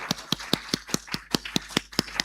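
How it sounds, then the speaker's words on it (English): A single pair of hands claps in a steady, even rhythm of about a dozen crisp claps. The claps are close and sound against a faint background hum. "If you don't want to clap, let me clap for you"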